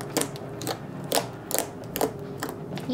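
Homemade blue slime gives off a series of sharp, crisp clicks and pops at a steady pace, about every half second, as it is pressed and stretched close to the mic, with no voices.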